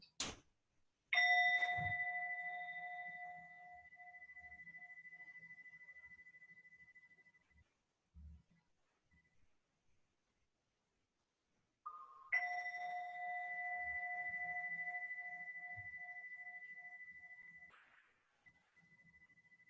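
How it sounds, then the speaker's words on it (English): A meditation bell marking the close of a Yoga Nidra session rings twice, each clear strike followed by a long sustained tone fading slowly into near silence. "allow for the sound of the bell now to carry you back from Yoga Nidra safe and sound"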